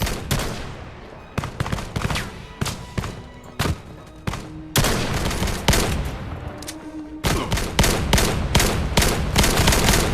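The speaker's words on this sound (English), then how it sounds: "You can't shoot one-handed with these guns." Dual pistols firing in the VR shooter game Vail, rapid bursts of sharp gunshots with irregular gaps between volleys and denser strings of shots toward the end.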